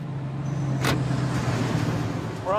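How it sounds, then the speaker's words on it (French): A car passes on an icy road bend as traffic starts moving again, a steady engine and tyre rumble with a brief whoosh mid-clip, close by and moderately loud. "la circulation reprend de plus belle"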